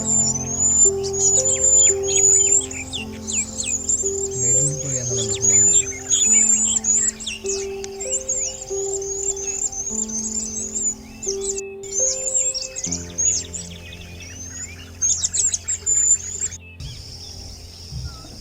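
Many birds chirp and sing continuously in a forest canopy where orange-breasted green pigeons live, with overlapping high tweets and calls over a steady lower hum, fairly loud and close, no voices.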